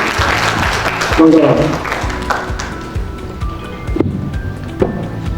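Audience applause at a book launch event, a broad wash of clapping from the gathered attendees mixed with voices and room noise, fairly loud and steady before thinning out.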